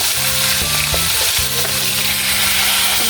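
Hot cooking oil spatters and sizzles loudly around frying food, a dense constant crackle with a low hum beneath it and no talking.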